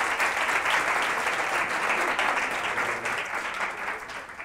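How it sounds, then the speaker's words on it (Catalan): A studio audience claps steadily at a televised Catalan spelling quiz show, a dense, close applause that holds throughout without talk and eases only slightly toward the end. "Aplaudiu un altre cop, vinga."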